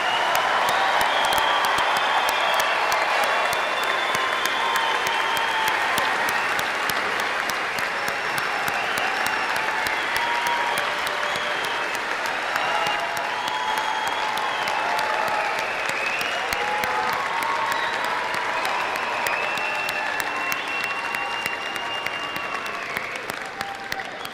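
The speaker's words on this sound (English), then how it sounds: "Can we get a round of applause for all of our graduates?" A large crowd at a high school graduation ceremony at Hofstra University applauds the graduates, a full, sustained roar of clapping with faint cheering that carries on for over twenty seconds.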